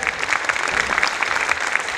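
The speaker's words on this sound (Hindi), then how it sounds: "पूरी पर्वत पाटिया की टीम के लिए एक बार जोरदार ताली हो जाए" Loud, dense applause from an audience at a preschool annual stage event, steady clapping filling the whole stretch with crowd noise.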